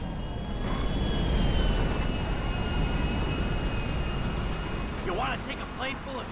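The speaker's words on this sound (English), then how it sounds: "You want to take a plane full of tourists with you?" An airplane engine drones steadily in Grand Theft Auto V, a broad, fairly loud roar throughout, with a voice speaking near the end.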